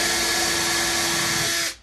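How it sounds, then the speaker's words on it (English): A power drill pre-drills marking holes in an MDF board, producing one loud, steady whirring burst that runs close-up for under two seconds before cutting off abruptly. "I'm chasing my pre-drill holes through this MDF board and just pre-drilling it"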